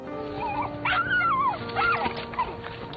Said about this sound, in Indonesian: Dogi kesayangan Ivers bernama Adam menggonggong